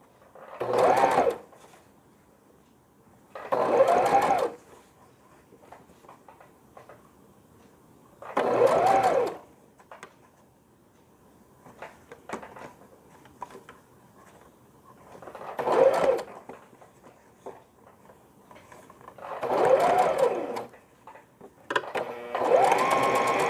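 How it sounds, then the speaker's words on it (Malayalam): Sewing machine stitching piping onto the neckline of a smocked summer frock, running in five or six separate bursts of a second or two each, with quiet handling sounds between them. "ബാക്കിൽ നിന്ന് ഫ്രണ്ടിലേക്കാണ് ഞാൻ അടിക്കുന്നത്."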